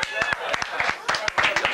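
A small group in a hospital staff room clapping for a colleague and his partner's good news, a brief scattered round of separate claps, near and uneven, with some voices over it.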